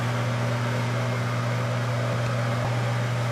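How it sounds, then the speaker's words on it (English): A microwave oven hums loudly and steadily with a low electrical drone and fan noise while melting white chocolate, continuous throughout with no voices. "You just want to keep melting it in the microwave"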